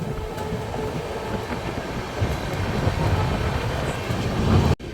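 The Mahakaushal Express rolls through Faridabad New Town without stopping, making a steady, close rumble of wheels and carriage with no voices, building slightly before a brief dip at the very end.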